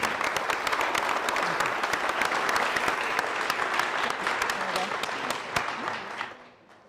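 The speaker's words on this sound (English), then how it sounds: "Round of applause." Audience applause at a health innovation pitch event, sustained dense clapping for several seconds that tapers off at the end, with a voice briefly under it.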